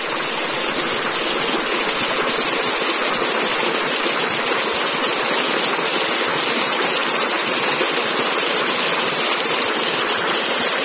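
A Glockmann water pump running and lifting water over a 6 meter head. It gives a constant loud rushing, splashing roar like a stream, close and steady with no pauses.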